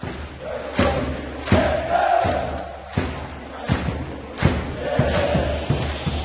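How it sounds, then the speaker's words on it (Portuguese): Flamengo supporters chanting in a football stadium, a broad roaring crowd with rhythmic thuds and surging shouts repeating roughly every second. "A torcida então cantou como nunca"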